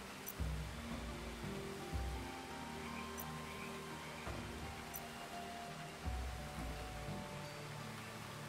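Ocean surf from the video game Leisure Suit Larry - Wet Dreams Dry Twice rolls in as a steady wash, with low swells rising every couple of seconds under faint game music; no one speaks.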